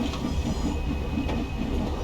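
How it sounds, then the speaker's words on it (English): A steam locomotive in the Train Sim World game rolls over a track switch, giving a continuous rumbling train drone with faint rhythmic clatter from the wheels, close and steady. "now we're going across the switch back to the track that we are supposed to go"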